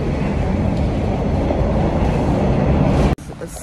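Train passing at a station, a loud, steady rumble of rail wheels and rolling cars that continues for about three seconds and then cuts off abruptly into quieter ambience.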